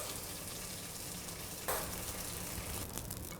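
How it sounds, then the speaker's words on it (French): Onion slices browning in a pan for a Burgundy-style burger give a soft, steady sizzle, faint and close, with one brief sharper crackle midway. "on va mettre à colorer les tranches d'oignons"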